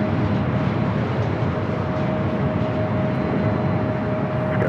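Delta Airlines Boeing 737-900ER arriving at LAX from Detroit, a steady broadband jet roar holding at constant loudness throughout, with a faint thin tone running underneath.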